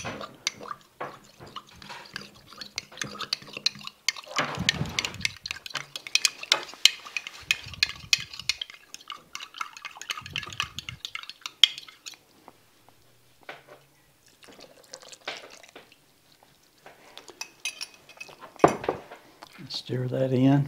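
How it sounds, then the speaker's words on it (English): Beef stroganoff thickened with cornstarch gets stirred in a crockpot, a spoon scraping and clinking against the pot in irregular bursts with wet, sloppy sounds and quiet pauses between strokes. "And I'll just stir this up real good."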